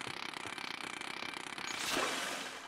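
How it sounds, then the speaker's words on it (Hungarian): A chainsaw weapon in the video game Splatoon 3, a fast pulsing mechanical buzz that stays steady, then swells into a brief louder rush before settling back, with no talking. "Ez egy láncfűrész!"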